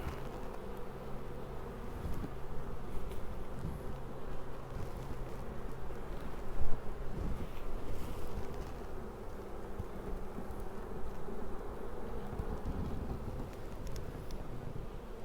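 Honeybees hum in a dense, steady drone around their hive, a close and continuous buzz with no talking.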